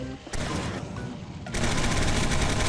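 A gun firing in the video game Gotham City Impostors, with loud, sharp shots and dense bursts of gunfire back to back.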